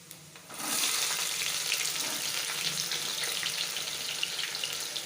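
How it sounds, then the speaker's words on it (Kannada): Chopped onions sizzle in hot oil for a mutton curry, a loud, steady hiss that bursts in after a brief quiet start and keeps crackling without a break. "ಚೆನ್ನಾಗಿ ಫ್ರೈ ಮಾಡ್ಕೊಳ್ಳಿ ಎಣ್ಣೆಯಲ್ಲಿ"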